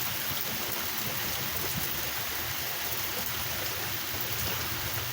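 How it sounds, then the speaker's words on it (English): Heavy rain coming down outdoors in Independence, Missouri, a dense, steady roar of falling water filling the scene evenly and loudly, with no talk over it. "it's fucking raining over here"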